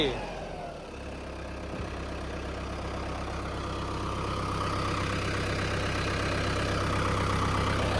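A Mahindra Arjun 605 4WD tractor idles just after servicing, giving a steady, even diesel rumble that grows slightly louder over the stretch while people talk nearby.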